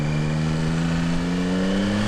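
A 2022 Yamaha Tracer 9 GT motorcycle accelerates, its engine note rising steadily and loudly up close with a smooth, continuous climbing whine and no talking.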